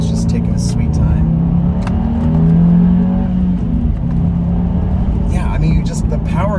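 A 2024 Subaru WRX engine revs steadily under acceleration, a loud continuous drone that rises in pitch while overtaking another vehicle on the road, with a person talking over it throughout.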